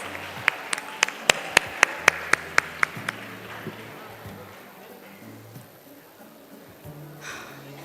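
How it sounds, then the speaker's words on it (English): Applause for the Secretary General approaching the lectern at a school Model United Nations closing ceremony: about ten sharp, evenly spaced claps ring out close and loud for roughly three seconds, then give way to a low hall murmur and faint voices. "let's have a thunderous applause for our Secretary General, Abigail Liu, as she approaches the lectern"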